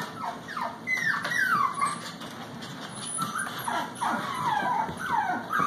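Several young Shih Tzu, Bichon and Poodle mix puppies whimper and yip in high, wavering cries, overlapping near the microphone and continuing throughout against a faint background hum.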